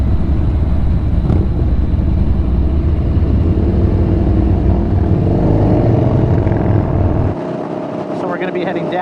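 A group of Yamaha Bolt motorcycles ride together on the road, giving a loud, steady engine and wind roar that drops off slightly near the end.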